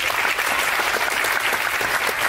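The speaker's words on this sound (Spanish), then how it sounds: "un fuerte aplauso para ellos, por favor" Audience in an auditorium giving loud applause for event staff, a thick continuous wash of clapping from many hands, steady and close throughout.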